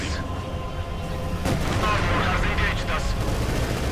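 Tank cannon fire in the real-time strategy game Company of Heroes 2, with a Puma armoured car trading shots with an IS-2 heavy tank. Loud, dense booming shots land over a continuous rumbling battle bed.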